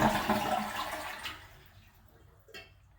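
A household toilet with a faulty, sticking fill valve flushes in a loud rush of water that drains away and fades over about a second and a half, leaving near quiet broken by a brief clunk.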